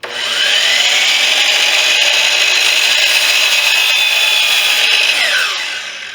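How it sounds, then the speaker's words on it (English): A circular saw cuts steadily through wood with a loud, sustained whining buzz that holds constant for several seconds before tapering off as the cut finishes. "Slow and steady into it, let the saw do the work."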